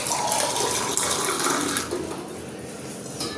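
Water poured steadily into a cooking pot while making ragi porridge, a close continuous splashing stream that softens slightly toward the end, with no talking.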